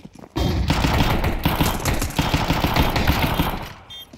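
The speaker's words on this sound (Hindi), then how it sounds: "शॉट आ रहे हैं।" Dense, loud gunfire in Counter-Strike 2 on the Mirage map, a nearly continuous barrage of rapid shots that fills the whole stretch after a brief quiet start.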